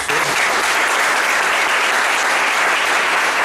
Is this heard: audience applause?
yes